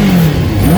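A Kawasaki ZX-6R motorcycle engine that has not run in years runs loud and close with a throaty, slightly uneven drone, its revs rising and dipping briefly.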